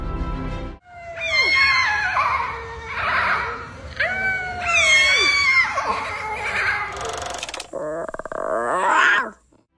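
A white lion cub lets out a series of rough, rising and falling growling cries, loud and close, separated by brief pauses, with a sharper squealing call at the end.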